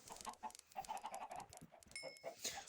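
A Minecraft chicken clucks in a quick run of short, choppy calls, moderately close and fairly quiet, followed by a faint high-pitched chime.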